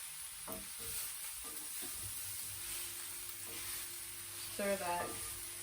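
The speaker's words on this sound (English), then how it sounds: "Stir the spinach in" Spinach and chickpeas are stirred in a frying pan. A faint, steady sizzle runs under soft scraping of the spoon and a few brief, light clinks.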